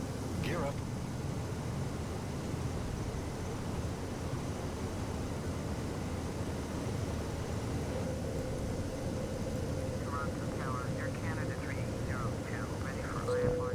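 Boeing 737 NG jet engines climbing after takeoff from Toronto Pearson in a flight simulator, a steady broadband roar with low rumble, continuous and even, while someone talks over it.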